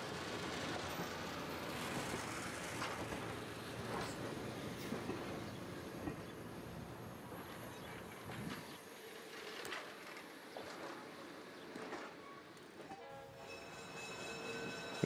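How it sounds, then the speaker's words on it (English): A Newport and Narragansett Bay dinner train crosses Anthony Road near Hummock Station in Portsmouth, sounding its horn over the clatter of wheels on rail joints and some wheel squeal, loud and close, fading toward the end. "train is then seen crossing Anthony Road by the new Hummock Station, built in 2017."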